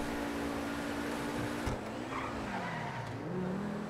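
A damaged car engine in GTA 5 hums and revs steadily, its pitch sliding down and back up as the vehicle slows and accelerates, close and continuous with light tire noise.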